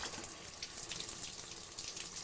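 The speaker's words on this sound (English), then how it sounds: "I'm going to let the water warm up first." A tap runs steadily into a sink while the water warms up before a dog bath, a soft, even, hissing splash heard alone at low volume.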